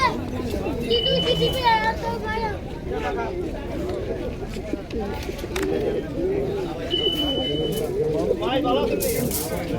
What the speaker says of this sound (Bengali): শতাবর্তী কবুতর এখানে বিক্রি চলতেছে